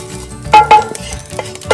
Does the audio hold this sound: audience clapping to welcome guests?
no